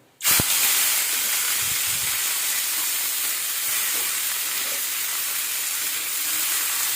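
Potato greens (aloo shak) dropped into hot oil, with a sudden loud sizzle that settles into a steady, close frying hiss and no talking.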